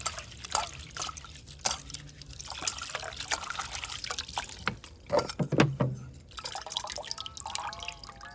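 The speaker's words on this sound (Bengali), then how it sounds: "এবার তুলসী পাতাগুলো তুলে নেবো পাতাগুলো ধুয়ে নেব দুবার ধুইলে হয়ে যাবে" Freshly picked tulsi (holy basil) leaves being washed by hand in water, with close trickling, dripping and sloshing in uneven bursts.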